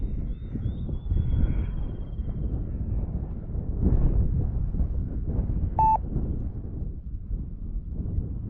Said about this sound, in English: A little bit of gusts in the wind